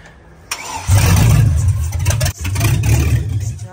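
Old truck with no exhaust pipe cranks and fires up, then roars loudly and raw, dipping briefly before settling into a rough, loud idle close by.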